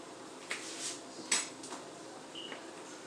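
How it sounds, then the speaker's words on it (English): Cream cheese is stirred in a pan, with a spoon clinking and scraping against the metal in a few sharp, moderately close knocks over a quiet background. "Start stirring our cream cheese up."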